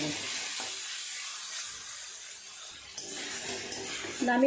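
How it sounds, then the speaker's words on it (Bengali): Drumstick flowers frying in mustard oil in a pan, a soft steady sizzle and hiss near the cooktop with a brief clink of stirring toward the end. "এইভাবে আস্তে আস্তে উল্টে পাল্টে ভালো করে ভেজে নেব"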